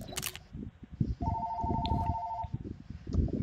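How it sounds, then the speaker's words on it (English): A phone rings with a steady electronic tone in The Sims 4, moderately loud over soft background game sounds and clicks. "And somebody's calling my phone."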